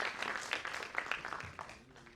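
Quiet applause in a well-known hall at a youth leadership award event, scattered distinct claps at low volume that thin out and fade over a couple of seconds.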